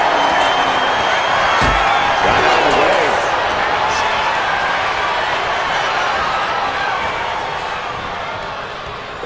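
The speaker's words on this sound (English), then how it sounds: "Listen to this crowd." A loud arena crowd roars and cheers without a break in WWE 2K25 during an intergender wrestling match, while a commentator talks over the noise and a thud sounds early on.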